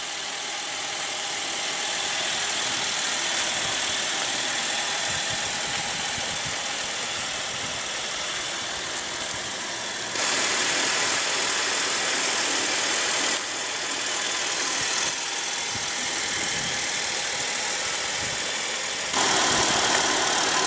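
A 2015 Buick Enclave's 3.6 L V6 engine idles steadily with a continuous broadband hum and mechanical ticking, its level stepping up slightly a few times as the microphone shifts; no one speaks.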